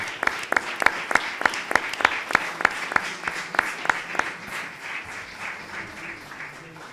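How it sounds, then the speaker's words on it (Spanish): An audience claps together in a fairly even rhythm, loud at first, then the applause thins and fades toward the end. "A que yo le pido un aplauso desde aquí"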